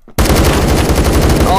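Rapid automatic gunfire in the Phantom Forces shooter game, a dense unbroken burst of shots starting abruptly after a brief quiet moment and continuing loud and steady throughout.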